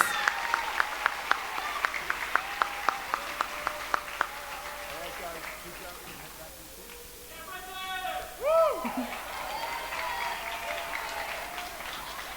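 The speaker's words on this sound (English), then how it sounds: "let's give a big round of applause to our Presidential Silver Award winners" Audience applause at a 5th grade graduation ceremony, a few seconds of scattered, sharp clapping in a hall that soon thins and fades, followed by murmuring and a brief cheer.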